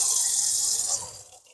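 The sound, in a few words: water running from tap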